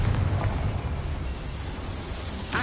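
A Confringo blast spell explodes in Hogwarts Legacy, a sustained roaring, rumbling burst with a sharp crack near the end, loud and close with no talking.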